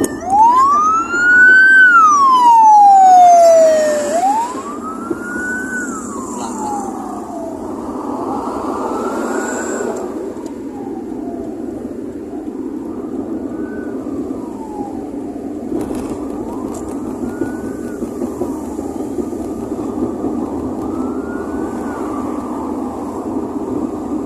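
A loud ambulance siren wails, rising and falling close by on a road in Batam, then fades into steady traffic rumble as the wail repeats more faintly in the distance.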